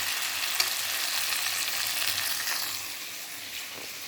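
Okra sizzles steadily in a pan with onions and a little turmeric, a dense, continuous frying hiss with faint stirring clatter throughout and no voices.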